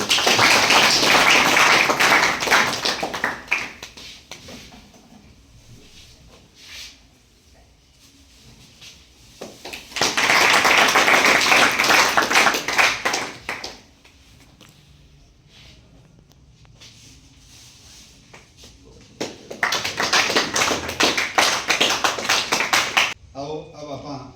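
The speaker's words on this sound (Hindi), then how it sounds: "जोरदार ताली तो बजाओ भाई।" An audience at a welcome ceremony honouring a newly selected police recruit bursts into loud, dense applause three times, each long round of clapping separated by quieter gaps.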